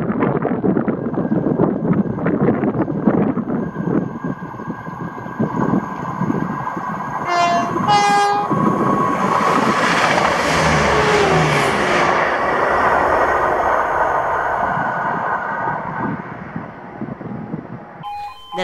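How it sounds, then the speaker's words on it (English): A ScotRail passenger service to Edinburgh from Arbroath rumbles loudly past a level crossing, with a horn sounding midway and a steady rushing of wheels on rail throughout. "this is 1L54, the 1357 ScotRail service to Edinburgh from Arbroath"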